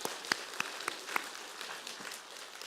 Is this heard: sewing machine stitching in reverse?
no